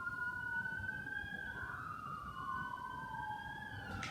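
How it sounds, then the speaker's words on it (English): Police sirens wail at a distance, two overlapping wavering tones rising and falling steadily, moderately faint and heard alone without talk. "Those sirens are for you"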